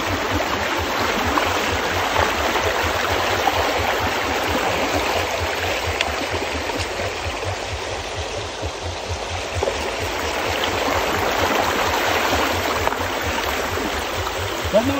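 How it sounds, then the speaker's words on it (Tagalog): The Lagnas River in Sariaya, Quezon flows in a constant, loud rushing stream with gurgling, close by and steady throughout, with no talk over it. "doon ka sa may tunog ng tubig"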